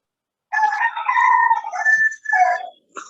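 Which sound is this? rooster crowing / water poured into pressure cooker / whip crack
rooster crowing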